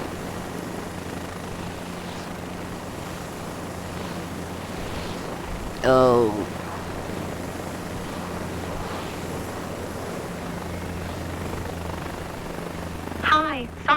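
A steady aircraft engine drone from Microsoft Flight Simulator 2024 fills the cockpit continuously and fairly quietly, with a brief voice cutting in twice.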